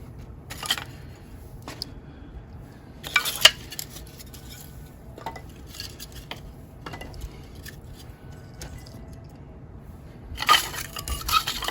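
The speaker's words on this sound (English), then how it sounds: "I'm gonna space these really loosely in the stove" Small pieces of firewood being set loosely into a wood stove, with scattered woody clunks and scrapes coming in short bursts and separated by quiet stretches; no voices.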